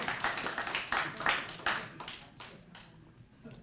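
A small church audience claps at a founding service for an international youth anti-drug police college, quiet and fairly sparse hand claps in loose bursts that thin out toward the end.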